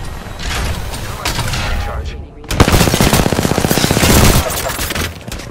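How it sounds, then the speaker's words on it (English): Loud Apex Legends gunfire rips out in a rapid automatic burst of evenly spaced shots lasting nearly two seconds, preceded by more muffled firing and a short lull. "Shots fired, and they're hitting me."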